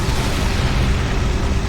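Weapon fire from a Warhammer 40,000: Space Marine game sounds as a dense, continuous roar of booming blasts, loud and unbroken throughout with no voices over it.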